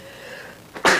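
A single sharp sneeze bursts out at the end after a brief inhaled wheeze, close and loud against a quiet room.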